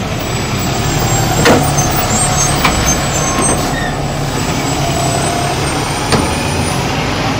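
A 1969 Camaro engine fitted with headers and an aftermarket cam rumbles steadily at close range, with a few sharp transient pops over a dense, continuous outdoor roar and no talk.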